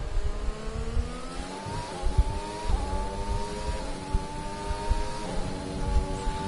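An F1 car engine screams flat out in the F1 2020 video game, a loud continuous high-revving whine that climbs steadily with brief dips at each upshift, heard alone without talk.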